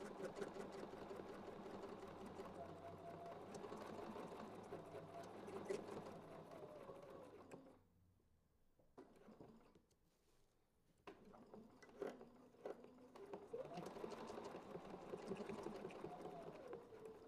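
A sewing machine stitches a quilt with a steady, close running whir, pausing briefly midway before resuming its continuous hum.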